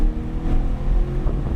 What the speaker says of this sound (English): Go full throttle.